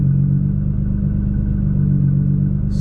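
A Nissan GT-R running on E85 fuel revs steadily to about 3,000 rpm, its engine producing a loud, continuous, close-up drone with a deep low hum that holds throughout.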